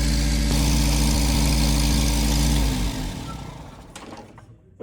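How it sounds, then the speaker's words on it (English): A 1980 MG four-cylinder engine idles at about 1600 RPM, producing a loud, steady, close-up drone. It then cuts out partway through and fades to quiet. "So it's idling at 1600 RPM"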